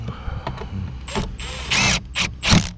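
Bolts on a broken 2013-2018 Nissan Altima door handle being tightened with a ratcheting tool, giving several short bursts of whirring and clicking near at hand with brief pauses between them.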